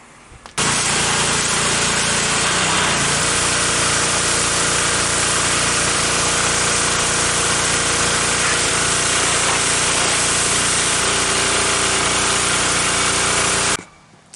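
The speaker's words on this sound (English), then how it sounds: "So, just got done pressure washing." A pressure washer blasts weathered wood on an old utility trailer being restored, a loud steady hiss and motor drone running nearly fourteen seconds without pause before stopping abruptly.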